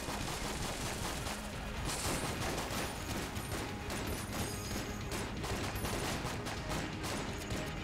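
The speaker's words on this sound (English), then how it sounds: "there's shots everywhere" Gunfire from the video game Enter the Gungeon plays in a constant, dense barrage of rapid shots with no break, fairly quiet in level throughout.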